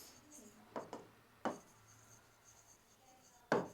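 Chalk or pen writing on a board during an accounting lesson; a few short, distinct scratchy strokes spaced apart, quiet, in a near-silent room.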